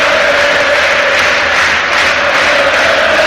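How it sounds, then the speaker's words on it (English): Charlton Athletic supporters sing together in the stadium during a match against Doncaster, a dense, steady roar of crowd voices that stays loud and unbroken from start to finish. "Charlton fans singing, trying to exert some kind of influence on their team."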